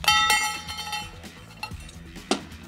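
A half dollar coin drops into a Perfect Coin Pail 2.0 magician's bucket, giving a bright ringing metallic clink at the start followed by a few softer clinks and a sharper hit near the end, with no voices.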